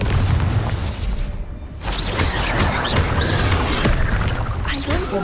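Repeated booming blasts from the Confringo fire spell in the Hogwarts Legacy video game, layered with whooshes, crackles and dense combat effects; a player shouts spell names over the din.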